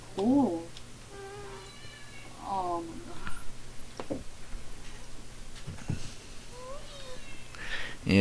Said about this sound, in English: they always seem to come in here and start meowing when trying to record